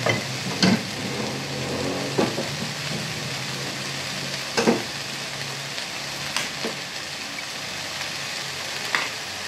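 Annatto seeds frying in oil to make achuete oil, a steady close sizzle with occasional louder pops and stirring clatter, no talking.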